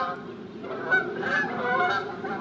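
Geese honk noisily and repeatedly, a chorus of overlapping nasal calls nearby.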